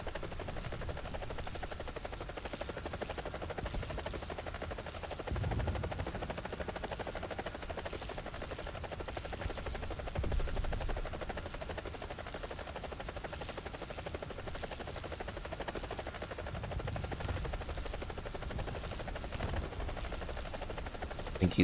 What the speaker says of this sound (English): Or is that a helicopter? I think that's a helicopter.